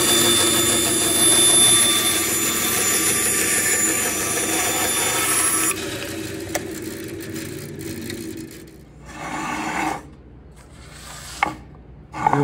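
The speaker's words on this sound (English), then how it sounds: "Here we are back to the bandsaw." A bandsaw runs loud and close with a steady whining drone while cutting wood, then the motor drops and winds down, leaving brief clunks and scrapes near the end.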